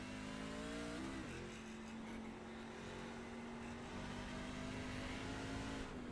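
A race truck engine in iRacing at Sonoma, lifting off the throttle with a steady droning hum, the pitch dipping once early then holding even and fairly quiet throughout.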